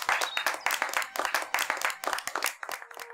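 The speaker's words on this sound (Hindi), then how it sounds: "तालियां बजाओ।" Group of people clapping at the close of a gathering, brisk overlapping hand claps, close and fairly loud, thinning out near the end.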